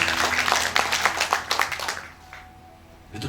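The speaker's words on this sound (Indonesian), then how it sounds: "tepuk tangan buat Tuhan." A church congregation at a Sunday worship service claps in a quick burst of scattered handclaps that fades out after about two seconds, leaving a quiet room.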